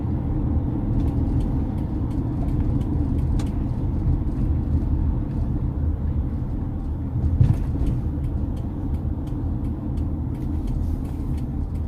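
Road traffic and buses rumble past near Titiwangsa LRT station in Kuala Lumpur, a steady low engine drone with passing vehicles and a brief louder swell, no voices.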